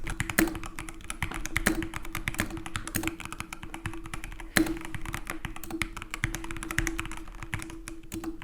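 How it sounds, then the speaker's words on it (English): Rapid, steady typing on an Everest 60 mechanical keyboard with linear yellow switches, dense clacking keystrokes close up, with an occasional louder thock as a key bottoms out. "the linear yellow switches mounted on this amazing Everest 60 keyboard"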